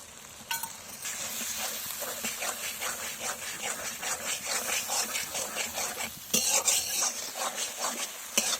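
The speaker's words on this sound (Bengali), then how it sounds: "মশলা কষানো হয়ে গেছে, মশলা থেকে তেল খেয়ে দিয়েছে" A thick masala of coriander and chili powder is being stirred and sautéed in oil in a pan, with a steady sizzle and a spatula scraping the pan in a repeated rhythm. It is close and fairly loud, and no one speaks.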